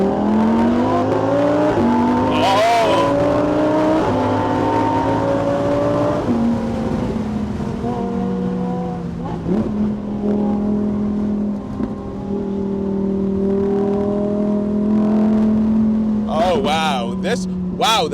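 A Lamborghini Huracan Evo Spyder drives a winding road, its engine droning steadily near and loud with rising and falling revs and occasional downshift blips, while a driver talks throughout.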